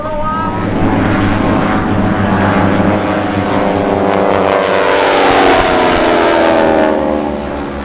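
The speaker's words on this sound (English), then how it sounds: "Those who watch up close usually see jets streaking by at extremely high speed" Military jets such as Blue Angels and Thunderbirds roaring past at an air show, a loud sustained rushing engine roar that swells and sweeps by without a break.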